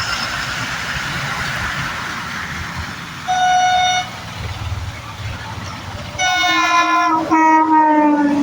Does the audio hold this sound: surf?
no